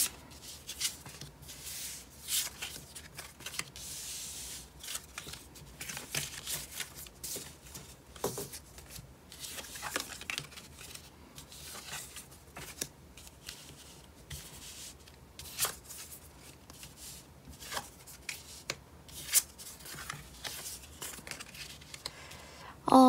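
Tarot cards are shuffled and drawn by hand, giving a steady run of soft papery riffles, slides and taps close to the mic, with a quiet voice talking at times.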